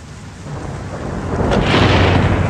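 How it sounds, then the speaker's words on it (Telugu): A film sound effect of thunder and rain: loud, close broadband rumble and downpour that swells and grows heavier over a couple of seconds, with no voices. "వాన మొదలైంది."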